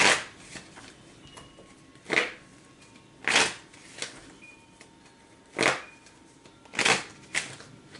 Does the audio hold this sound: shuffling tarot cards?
yes